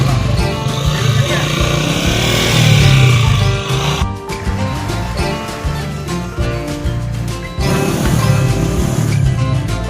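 A motorcycle engine labours loudly and steadily as it climbs a steep, rough mountain road near Pathiali Top, close by, with a voice speaking over it.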